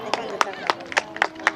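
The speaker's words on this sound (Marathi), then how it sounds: "टाळ्या वाजवा." Fourteen-year-old girls clap hands in a rhythmic series of about six quick claps, spaced roughly a quarter second apart, at moderate distance, with other sounds in the background.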